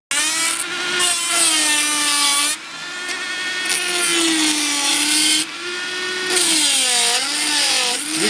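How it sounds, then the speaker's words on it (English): A Dremel rotary tool cuts a carbon fibre motorcycle part with a loud, close high-pitched whine whose pitch sags and recovers under load, broken by short pauses between passes. "Dremel. Just to cut this piece like this."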